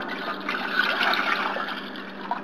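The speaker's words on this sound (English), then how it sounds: "ilalagay natin sa isang pot yung ating water" Water pours steadily into a cooking pot for marbled tea eggs, a close, continuous splashing trickle at even loudness with no talk over it.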